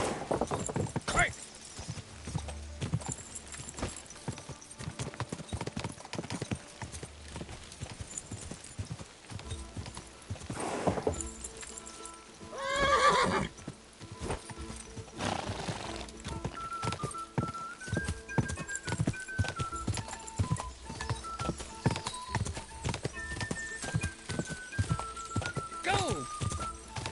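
Horse hooves clip-clopping at a gallop in the medieval game Kingdom Come: Deliverance II, a steady rhythmic beat under frequent talk and game music, with a brief whinny partway through.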